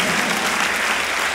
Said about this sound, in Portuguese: E dê o melhor aplauso que você puder, louvando e engrandecendo a Jesus.